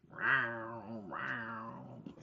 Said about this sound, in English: I've been hearing this cat out here for days.